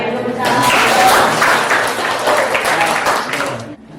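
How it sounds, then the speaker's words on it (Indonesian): Audience clapping at a teacher's school presentation, a loud burst of many hands that swells quickly, holds for about three seconds, then cuts off abruptly. "Tepuk tangan dulu."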